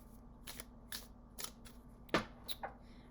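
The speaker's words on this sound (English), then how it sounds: "we're just going to give it a quick shuffle" Several quick, soft riffling bursts of tarot cards being shuffled, close and quiet, with short pauses between them.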